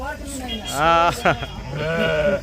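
Pregnant, large-sized sheep bleat close by at the Gudur sheep market, their wavering cries overlapping in a few loud calls, while a person talks nearby.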